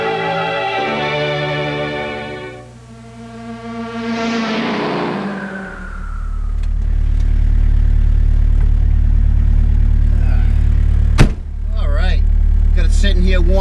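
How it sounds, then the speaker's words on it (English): A Volkswagen Mk1 Rabbit diesel warms up at idle with a low, steady clattering rumble. Music plays before it, and a sharp click breaks in partway through. "Sitting here warming up, idling away a little bit."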